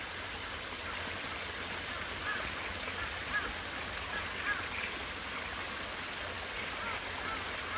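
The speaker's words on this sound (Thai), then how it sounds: "น้ำธรรมชาตินะครับ น้ำไหลจากบนภูเขาครับผมธรรมชาติ" Natural mountain stream water flows steadily on a rocky Thai peak, a continuous broadband rush that stays even and moderately close throughout, with no other distinct sounds standing out.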